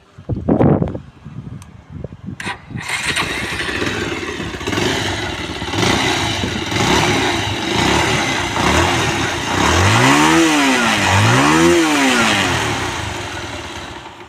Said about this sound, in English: ఒకసారి మనం బైక్ అయితే స్టార్ట్ అయితే చేసి చూసుకుందాం.